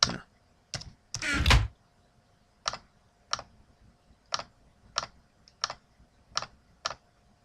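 Computer keyboard keys are pressed in a sparse, irregular series of crisp clicks while a Minecraft game is played, opening with a quick cluster and a heavier thunk, then single taps spaced about half a second to a second apart.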